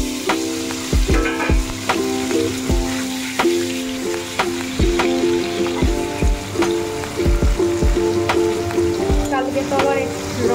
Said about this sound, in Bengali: কড়াইয়ে আবার তেল চাপিয়ে দিলাম, ভেন্ডি ভাজাটা নামিয়ে এবার পনিরগুলো আবার একটু হালকা করে ভেজে নিই।